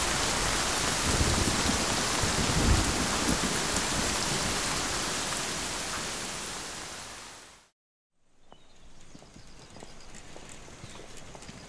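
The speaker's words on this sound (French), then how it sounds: "Peut-être que la pluie va s'arrêter. En général, les orages sont courts." Heavy rain pours steadily during a thunderstorm, a dense hiss close by that swells and then fades away to near silence before resuming more softly.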